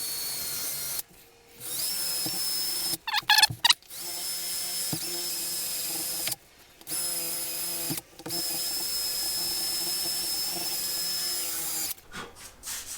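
A handheld power tool sands a car wheel rim in several bursts, a loud high-pitched whine that starts and stops repeatedly with short gaps and scraping changes in pitch, close up, without speech.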